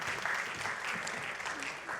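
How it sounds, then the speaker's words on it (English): Conference audience applauding steadily for about two seconds, a dense even patter of many hands with a faint voice or two underneath. "Vi applaudono ancora."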